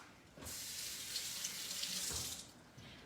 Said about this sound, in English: I'm gonna give my scallions a rinse because scallions, sometimes there's some sand that can hide in the bottom here.